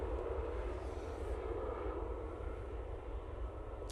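An Aer Lingus Airbus A320 airliner bound for Dublin at Manchester Airport gives off a continuous, moderately loud jet engine rumble and whine, steady from start to finish with no voices.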